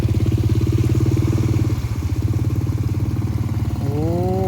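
A motorcycle engine runs close and loud with a steady, throbbing idle that rises into a brief rev near the end, heard on a flooded road.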